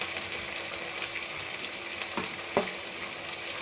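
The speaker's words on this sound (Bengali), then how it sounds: "যে মশলাগুলো তেলের সাথে ভালো করে কষিয়ে নেব।" Ginger-garlic paste and spices fry in hot oil for egg biryani, making a continuous even sizzle with a couple of brief spoon clinks and no talking.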